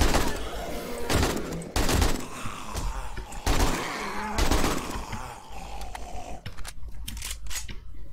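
Rapid gunfire in 7 Days to Die, several quick bursts of sharp shots in clusters, loud and close, tapering into scattered quieter cracks near the end.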